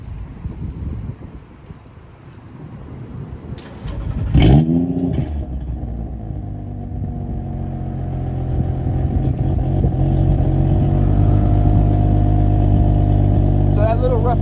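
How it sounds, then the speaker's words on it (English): A car engine, a fake BMW M4, turns over and catches, then settles into a loud, rough idle with rising revs, close by, with wind buffeting the microphone. "Let's fire it up and give you guys some revs."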